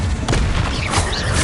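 A Confringo blasting spell explodes in Hogwarts Legacy, a loud dense boom with rumbling low-end impact that fills the short moment, with crackling debris layered on top.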